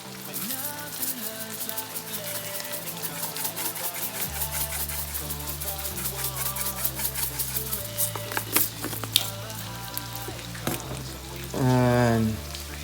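Minced onion sizzling in a hot pan, a continuous crackling fry with clicks and scraping, medium loud, with a low hum underneath and a short rising tonal burst near the end.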